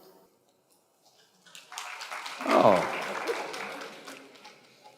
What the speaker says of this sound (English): so many broken hearts here who are clapping their hands.